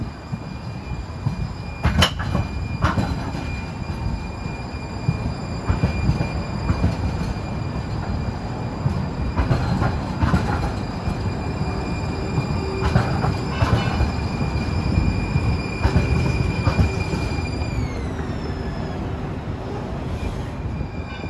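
A San Francisco Muni Metro K-line light rail streetcar rolls in with a heavy rumble, wheels squealing on the rails, clanks and high metallic whines building as it arrives.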